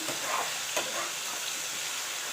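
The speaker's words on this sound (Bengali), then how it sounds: "একটু নুন দিয়ে দিলাম, পেঁয়াজ টমেটো এগুলো একটু নরম হওয়ার জন্যে।" Onions and tomatoes with salt frying and being stirred in a pan for homemade mutton keema, a steady, close sizzle with a brief scrape of stirring near the middle and no talk.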